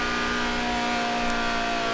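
A Lotus sports car with a mid-mounted engine accelerates in the Forza Horizon 4 racing game, giving a steady, loud engine drone with tonal harmonics that holds throughout, with no talk over it.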